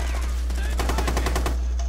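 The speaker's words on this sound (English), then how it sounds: "Being shot at, but from where?" Rapid automatic gunfire in a shooter video game, a dense burst of closely spaced shots peaking in the middle, loud and continuous over a low steady hum.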